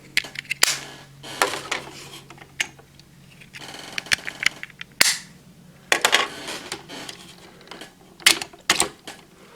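Plastic weapons and side panels are detached and folded on a DX ToraDora GonJin toy robot, producing sharp, close snaps and clicks with scattered rattling handling noise in irregular bursts.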